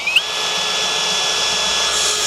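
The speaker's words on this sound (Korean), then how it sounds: "이 스크류 드라이버 모드에서는 1단부터 20단까지 토크 값을 조절하면서 사용 가능합니다" A cordless hammer drill in screwdriver mode at its lowest torque setting drives a screw with a steady, close whirring hum that holds level throughout.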